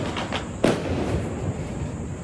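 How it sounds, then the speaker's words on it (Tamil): A garlic firecracker bursts during Diwali celebrations with a single sharp, close bang, after a couple of fainter pops, then a brief fading rumble over an outdoor hiss. "பூண்டு வெடி இது மட்டும் தான் வெடிக்கும்"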